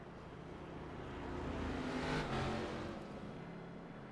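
Simulated race cars in an iRacing stock-car event roll along pit road, a steady broadband engine drone that swells as cars pass close by around the middle, then eases back, with no talk.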